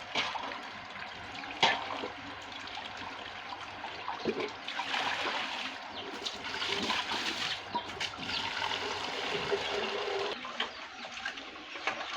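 Fresh crabs being washed in water by hand for a crab dish, with steady splashing, sloshing and trickling at close range, shifting in intensity throughout and with no talking.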